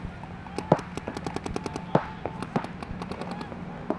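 Paintball guns fire during a large tournament as a rapid string of sharp pops. A few louder shots stand out against steady outdoor background noise.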